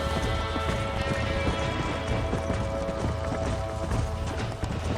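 A horse in Red Dead Redemption clip-clops along at a steady gait, its hoofbeats close and continuous over a low rumble of ambient game sound.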